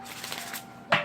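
Tarot cards that are sticking together riffle in a short, papery flutter that ends with a crisp slap as the deck comes together.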